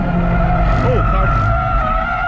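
Race car tires squeal and skid during a track day at Lime Rock, a brief rising screech over a loud, steady engine drone with a voice talking over it.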